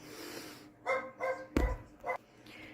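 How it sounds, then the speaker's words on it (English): Several dog barks in short bursts, a few sharp yaps spaced apart with a louder close bark in the middle, fairly near. "the dogs are barking"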